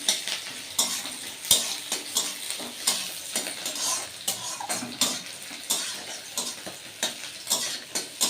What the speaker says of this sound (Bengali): ততক্ষণে আমি ভাত ভাজাটা বানিয়ে নিই